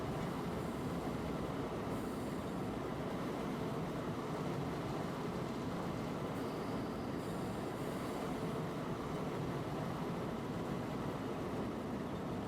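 A train braking on the Hamburg to Lübeck route in Train Simulator 2017, heard as a continuous dense rumble of rolling wheels with faint squealing, steady and unbroken throughout, without talking.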